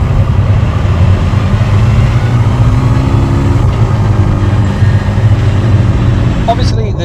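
A McLaren Artura Spider supercar engine roars steadily as it accelerates to the speed limit, a loud continuous low rumble filling the whole stretch with no pauses.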